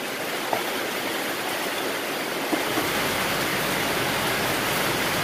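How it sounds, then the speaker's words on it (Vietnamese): Steady rain pours down outdoors in a dense, even hiss that holds constant throughout, with no voices. "Hổm hổm dài làm clip toàn gặp trời mưa không cả nhà."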